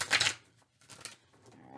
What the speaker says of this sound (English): All right, you see me shuffling here.